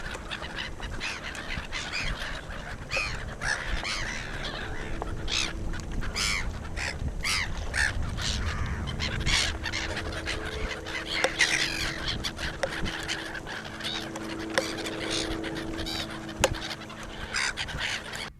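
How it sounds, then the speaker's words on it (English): A large flock of shorebirds and waders on a tidal creek at Brightlingsea, calling continuously in a noisy overlapping chatter of honks and cries, moderately close and steady throughout with no talking. "Some work alone, following the incoming tide. Others hunt in small groups. Or even big noisy flocks."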